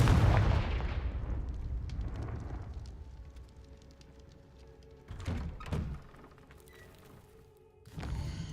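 Confringo blasting spell from a Harry Potter video game: a heavy close explosion thumps and decays with crackling debris, then two further sharp blasts follow a few seconds apart and a last burst lands near the end.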